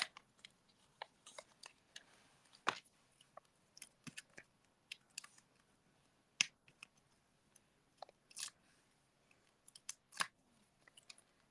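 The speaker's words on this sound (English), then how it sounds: "I always cut around the edge so that I can use up the edge" Scissors snip in short, irregular bursts of crisp clicks, close and fairly quiet, while cutting around the edge of a sheet of dimensional stickers during holiday card crafting.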